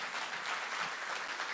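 A church congregation claps during a sermon, a brief, even burst of many hands heard from across the room with no voices over it.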